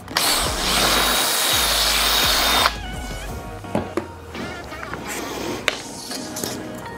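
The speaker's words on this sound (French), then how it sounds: "maintenant j'ai plus qu'à faire mon perçage." A power drill bores a hole through a jig for Lamello Clamex connectors, a loud steady whir for nearly three seconds, then stopping into quieter clicks and handling knocks.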